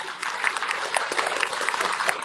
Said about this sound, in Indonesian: Oke, kita kasih applause yang sangat meriah.